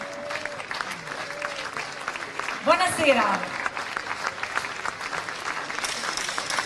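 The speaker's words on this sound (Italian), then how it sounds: "per ricevere tutti i vostri applausi." Crowd applause at an outdoor stage event during the Friuli Doc festival in Udine, greeting Udinese Calcio coach Andrea Sottile and Gerard Deulofeu, a steady wash of clapping under an announcer's voice, with a brief greeting spoken.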